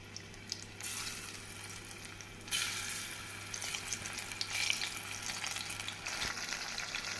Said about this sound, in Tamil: இப்படி காளானை உதிரி உதிரியாக போட்டு நாம் நன்றாக மொறுமொறுப்பாக பொரித்து எடுக்க வேண்டும்